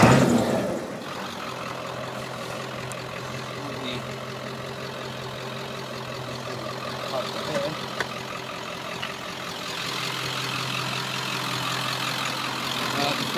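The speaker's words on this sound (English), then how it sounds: "It's got a straight pipe exhaust, so it sounds really gnarly." A 1996 Ford F250 XLT 4x4 long bed with the 7.3 Power Stroke turbo diesel and a straight pipe exhaust, idling with a steady deep rumble, loud and close throughout, with no talk.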